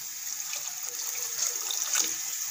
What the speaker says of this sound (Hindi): ये देखिए थोड़ा सा पानी डाल दिया गया